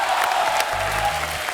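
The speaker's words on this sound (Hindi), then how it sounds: "जोरदार ताली होनी चाहिए." Studio audience on the Kapil Sharma Show breaks into a short, loud burst of clapping and cheering, a dense crowd roar with a low hum of sound beneath it.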